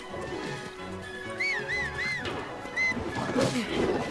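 A horse in Zelda: Tears of the Kingdom whinnies in a clear rising-and-falling call, then hoofbeats thud and clop as it runs closer, set against ambient game sounds.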